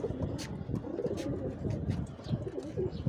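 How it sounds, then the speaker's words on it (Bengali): Pigeons coo from a rooftop garden, their soft repeated calls rising close and clear over a steady low background hum, with a few faint chirps mixed in. "এই দেখেন একটা কবুতর এদিকে বসে রয়েছে"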